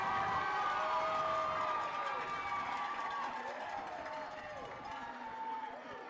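A loud crowd roars continuously at a high school football game between Texhoma-Goodwell and Talihina, with a siren-like wail rising and falling over the steady din and a voice talking over it.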